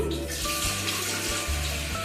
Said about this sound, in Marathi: त्याच्यात आता इडली पात्रात पाणी लागते